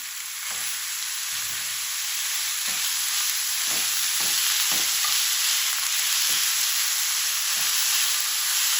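Half a kilo of minced meat keema frying in a pan, a loud continuous close-up sizzle broken by periodic spatula scrapes and taps as it is stirred.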